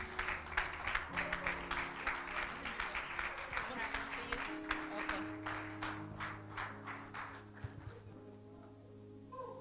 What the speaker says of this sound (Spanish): Vamos a recibirla con un fuerte aplauso para Cristo.